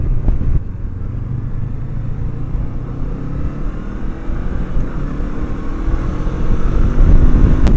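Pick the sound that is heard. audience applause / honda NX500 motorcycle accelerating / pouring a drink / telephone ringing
honda NX500 motorcycle accelerating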